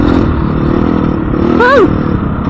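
A Husky FE350s dirt bike engine drones steadily while the bike is ridden off-road. The sound is close and loud, with a short rising and falling whine near the end.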